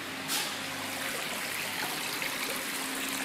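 Water trickling steadily from a small garden pond waterfall, a continuous close splashing wash with no voices over it.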